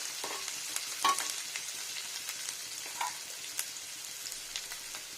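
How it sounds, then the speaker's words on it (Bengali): Chopped onion fries in hot mustard oil, a soft, steady sizzle with small crackles and a couple of sharper pops, close and fairly quiet with no talking. "এখন পেঁয়াজটা ফ্রাই হয়ে গেছে"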